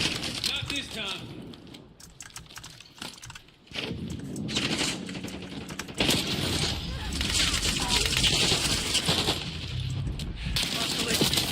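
Rapid automatic gunfire rattles almost continuously in Zenless Zone Zero, dense bursts layered with game effects, with brief lulls and voices speaking in between.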